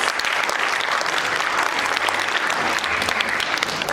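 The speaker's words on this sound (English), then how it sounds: "can we give a round of applause for all our amazing poets?" An audience at a poetry slam applauds the poets, giving a loud, dense and continuous round of clapping at an even level throughout.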